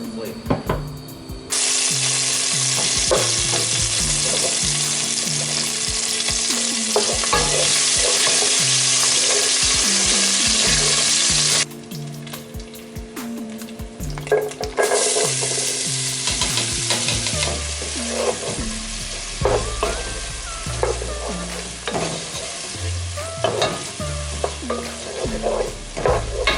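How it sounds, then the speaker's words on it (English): Onions, garlic and peppers fry in oil for smoked stuffed mushrooms, a loud continuous sizzle that swells, briefly drops away, then returns with stirring clatter, sounding close and unbroken by talk. "we're going to put the onions, the garlic, and the peppers in there. We're going to fry them up."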